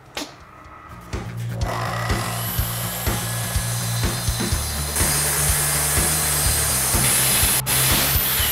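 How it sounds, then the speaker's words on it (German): A table saw cuts stacked boards into 904 mm pieces in a workshop, giving a steady, loud, close whining cut over a low motor drone that keeps running without a break. "die säge ich jetzt hier mit der Tischkreissäge in 904 mm lange Stücke"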